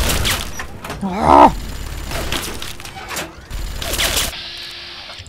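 Enemies in Fallout 3 fire bursts of gunfire, with irregular sharp shots and rattles mixed with game noise, while a person exclaims briefly over the shooting.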